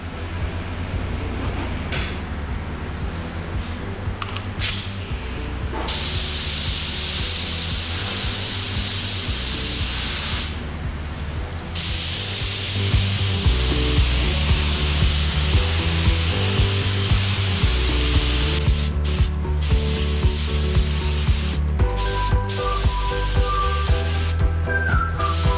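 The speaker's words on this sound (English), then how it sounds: "So now we're just going to do a coat of urethane sealer over top of that." Spray gun applying a coat of urethane sealer over adhesion-promoted raw plastic, a steady continuous hiss running throughout with several brief breaks and a louder stretch in the second half.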